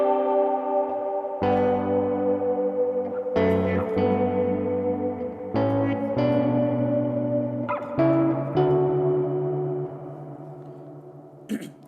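Electric guitar played through a pedalboard with a reverb pedal set to a room-sized space, a series of sustained chords and notes rolling into long, wet decaying tails, moderately loud and alone.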